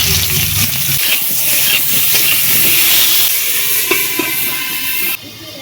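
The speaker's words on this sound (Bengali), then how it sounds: "তেল গরম হয়ে গেছে দিয়ে দিচ্ছি আলু" Potatoes hit hot oil in a wok with a loud, steady sizzling hiss that runs for about five seconds, then drops off sharply near the end.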